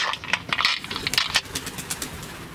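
Pigeons take off near a building entrance, a burst of cooing and wing flutter layered with bird calls over a busy background, fairly close and steady throughout.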